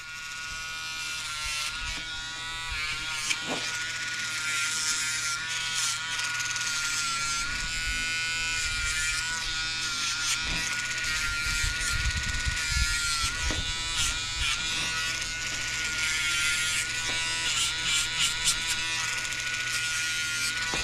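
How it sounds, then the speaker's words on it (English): Electric dog clippers fitted with a 10 blade buzz continuously while shaving a senior poodle around the base of its tail, a steady close-up hum with slight shifts as the blade moves through the coat. "I'm using a 10 blade. I'm going to shave around the base of his tail."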